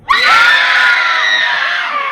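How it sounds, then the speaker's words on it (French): A live audience at an event with actress Neve Campbell lets out a loud, sustained collective scream, as if Ghostface were right behind them, with high shrieking voices rising at once and holding steady. "de me faire un hurlement comme si Ghostface était derrière vous?"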